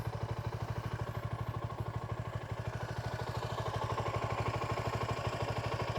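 A Suzuki Gixxer SF 250 motorcycle engine idles steadily nearby, a rapid even thumping pulse that holds at moderate level throughout, with no talk.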